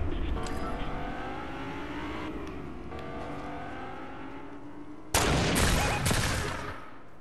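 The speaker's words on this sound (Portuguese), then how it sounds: "Ah, barulho de carro, hein?" A car engine in Fortnite hums and revs continuously, then surges louder near the end with sharp bursts like gunfire layered over it.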